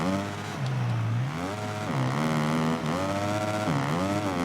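A motocross bike engine in MXGP 2019 revs hard and continuously, the pitch sweeping up and down as the throttle opens over bumpy ground, loud and close throughout.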